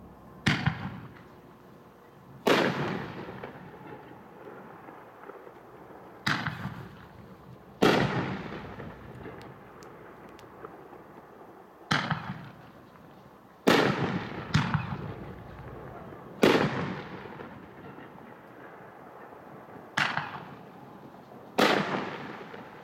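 A Hot Shot 'God Bless America' fireworks cake, a 12-shot 2-inch cake, fires outdoors: eight sharp, loud bursts at irregular intervals of one to four seconds. Each report trails off in a crackling, echoing decay, and no one speaks.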